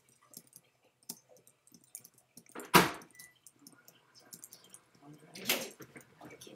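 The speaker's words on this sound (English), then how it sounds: "Sorry if you guys can hear my mouse click." Quiet, scattered clicks tap away at irregular intervals, with two louder bursts of noise standing out among the soft clicking.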